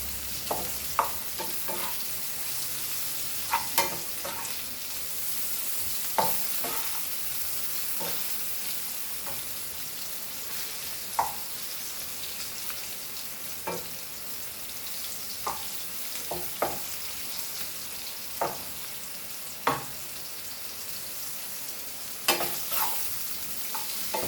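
Karela (bitter gourd) fries in a pan with a steady broadband sizzle, punctuated by sharp scraping clicks as the pieces are stirred and turned, close and alone.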